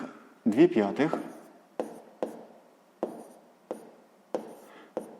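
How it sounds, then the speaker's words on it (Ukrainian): Pen strokes scratching across paper while working a sixth-grade math exercise, a short dense burst of writing followed by a series of evenly spaced brief scratches, close and fairly quiet, with a voice speaking over the start. "Ну що ж, записуємо тоді друга дія"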